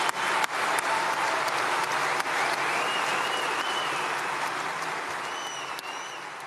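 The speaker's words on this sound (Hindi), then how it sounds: "यहां स्टैंडिंग ओवेशन मिल रही है इस सदी के इन्वेस्टमेंट महानायक सर वॉरेन बफेट को" A large audience gives a standing ovation for Warren Buffett at his final Berkshire Hathaway AGM, a dense, sustained roar of clapping that holds steady for several seconds and eases slightly toward the end.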